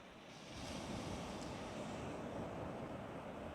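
Surf washes steadily onto a sandy beach on the west coast of North America, a continuous soft roar with some wind, no voices.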